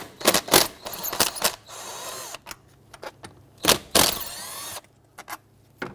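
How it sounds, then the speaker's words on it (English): Two 10mm bolts come out of a 2005-2011 Nissan Frontier 4.0L V6 engine, heard as short, close bursts from a power tool or ratchet spinning, with clicks and metallic rattles in between and no talk. "Remove the two 10mm bolts here."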